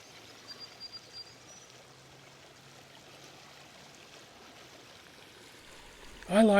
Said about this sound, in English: Just listening to the rush of the water and the sound of the birds calling.